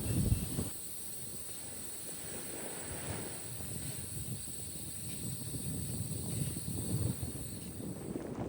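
Air hissing steadily out of truck tires being deflated on a stuck truck in Tunisia, a continuous close hiss lasting the whole stretch with slight fluctuations.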